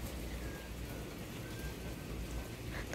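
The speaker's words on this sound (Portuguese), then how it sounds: "Tá chovendo lá fora" Steady rain falls outside near Três Coqueiros beach, a soft continuous hiss of drops that fills the whole moment evenly, with no one speaking.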